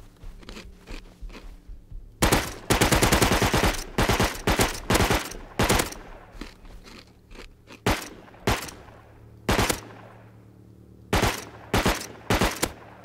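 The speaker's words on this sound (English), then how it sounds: "Apparently these guns suck against bears, or maybe my shooting sucks." Gunfire in the survival video game Rust aimed at a bear: loud, close bursts of rapid shots in clustered volleys, then scattered single and double shots with short pauses between.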